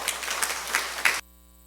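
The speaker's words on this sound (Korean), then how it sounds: "여러분 박수 부탁드리겠습니다." A short burst of applause from a crowd at a Bamboo Salt Day ceremony, brisk clapping that cuts off abruptly into near silence.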